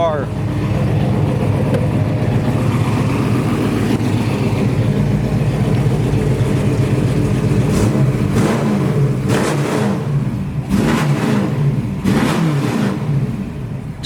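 Revving of a stroked 472-cubic-inch 426 Hemi V8 in a 1965 Plymouth Belvedere super stock, running loud and close with a steady rumble, then sharp repeated throttle blips toward the end.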